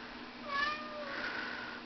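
A cat gives two drawn-out meows close by, the second one wavering and longer, with a quiet steady background hum and no talking.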